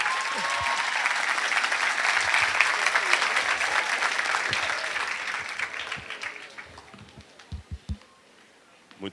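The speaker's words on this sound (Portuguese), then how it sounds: "E recebamos agora com muito carinho a salva de palmas do Dr." Audience applause welcoming Dr. Rodrigo Silva at a gospel talk, a steady crowd of clapping that gradually thins and fades out, leaving a few scattered claps and knocks at the close.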